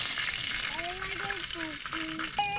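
Hungarian sausage fries in a pan at an overnight campsite, a faint steady sizzle under scattered voices and chatter.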